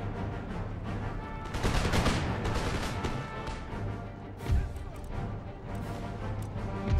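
Musket volleys and battlefield gunfire from Empire Total War rumble at a distance, with scattered crackling shots, a heavier burst swelling around the middle, and a low droning background throughout.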